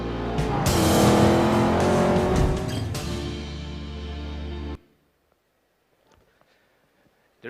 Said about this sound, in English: feel sports cars flying past you